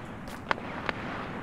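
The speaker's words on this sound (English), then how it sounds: "Gunshots." Two sharp gunshots, spaced a few tenths of a second apart, ring out at moderate distance in a World War II video game battle set around Kharkov, with a faint background hum and no talk.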